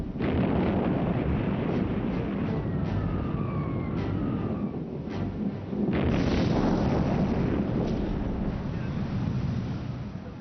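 Archival film of the 1940 Italian bombing of Malta carries a continuous rumbling roar of blasts and gunfire. A heavy thud comes near the midpoint, with a faint siren-like whine in the middle of the clip.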